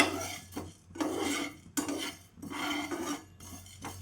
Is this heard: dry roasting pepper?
yes